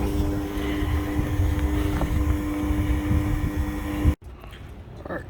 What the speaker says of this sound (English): I'm pumping the fuel out so I can swap from the tank to the fuel cell.